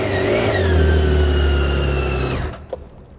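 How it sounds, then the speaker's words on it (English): A BMW K1600 GT motorcycle engine revs up close and loud, its smooth whine climbing through the revs, then holds steady for about two seconds before cutting off abruptly into near silence. "for me, the engine sounds awesome"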